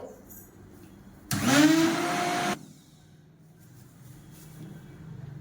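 Blender running on high speed while a shake is being prepared at a nutrition center: a loud, steady whirring motor burst of about one second with a rising pitch, then cutting off abruptly to a quiet room.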